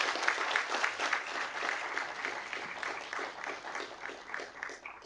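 An audience at a Duke Kunshan University Master of Management Studies graduation gives steady, even applause for families and parents, a soft, distant wash of many hands clapping with no break.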